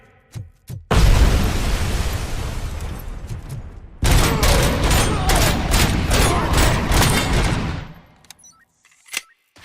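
Gunfire in RoboCop: Rogue City: two long, loud bursts of rapid shots close by, separated by a brief gap, with a few single pops before and after.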